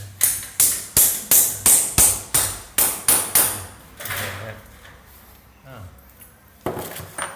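A hammer knocks cable clips into a wall while running VAF 2x1.5 electrical wiring, about a dozen sharp, evenly spaced close blows, then a quieter pause with faint handling and another strike near the end; a voice speaks at times.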